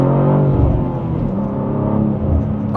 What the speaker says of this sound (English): Should we have a second gear pull?